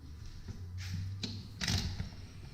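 A storm door is opened and closed and then latches, giving a few faint clattering knocks and a sharper click against a quiet background, with no speech.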